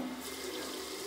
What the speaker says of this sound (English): Faucet.